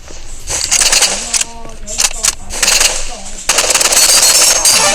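Rapid automatic gunfire from a teammate in an online shooter game comes in loud bursts, with a player talking over the shots between volleys.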